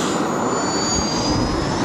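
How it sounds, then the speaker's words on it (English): A small jet engine mounted on an RC car is revved hard while the handbrake locks the rear wheels, producing a loud, steady, close roar with a high whine on top. "I gave the engine some more welly with the handbrake on"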